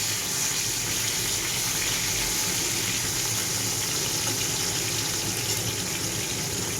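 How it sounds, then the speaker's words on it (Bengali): A continuous, dense sizzle of katla fish pieces frying in hot oil, steady and close with no talking. "মাছটা ভাজা হোক ওপরটা"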